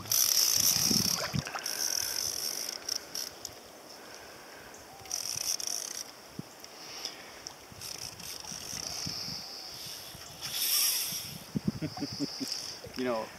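A fishing reel's drag clicks and buzzes in rapid bursts as a hooked bonefish pulls line from a boat, with people talking over the ratcheting throughout.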